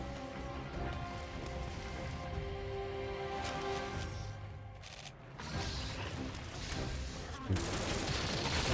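Cluster bomb fire from a bowgun in Monster Hunter Rise crackles in rapid volleys, with bursts of sharp pops and rattling detonations spread through the stretch. A brief lull comes midway, and game music plays underneath.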